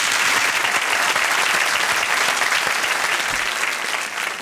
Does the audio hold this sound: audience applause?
yes